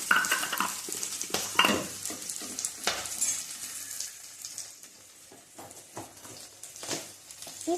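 Green chillies, shallots, garlic, bird's eye chillies and ginger sizzle softly in a pan while a spoon scrapes and clinks through them in irregular stirring strokes, with no voices heard.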